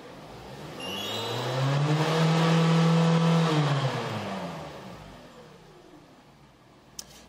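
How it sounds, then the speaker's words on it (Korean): A car engine with over 200,000 km and a rebored engine revs up smoothly in one long rise, holding high, then winds back down; a brief sharp click comes near the end. "이 차량 제가 악셀을 이렇게 밟아봐 드리면은"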